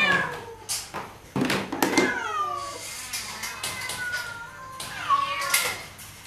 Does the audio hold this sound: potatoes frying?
no